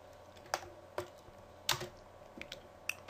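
Keys on a computer keyboard are pressed sparsely, including the spacebar, giving a handful of close, sharp clicks at irregular intervals over a quiet background.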